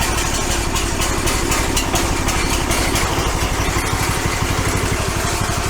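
A Duromax 440cc gasoline engine runs steadily at a loud, close, rough idle, with a continuous rapid chugging throb throughout and no talk.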